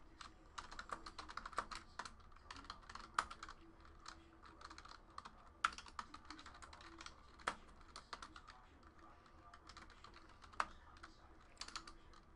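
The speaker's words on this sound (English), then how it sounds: "Let's type in the hits." Quiet, steady typing on a computer keyboard, irregular clicks and taps continuing throughout with a few louder keystrokes, no talking.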